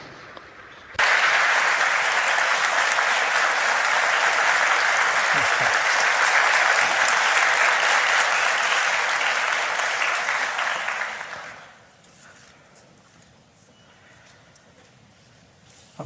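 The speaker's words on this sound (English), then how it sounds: "Please welcome the minister with a big round of applause." A large forum audience welcoming India's foreign minister at the Nikkei Forum breaks into loud, sustained applause that starts abruptly, holds steady for about ten seconds, then fades quickly into quiet room tone.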